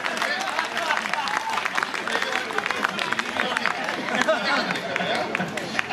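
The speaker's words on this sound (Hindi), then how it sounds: "तालियां जरा एक बार मिलकर बजाएं" An audience at a Hindi-language public address claps together in a dense, sustained round of applause. The crowd noise is steady and loud, with a background murmur of voices throughout.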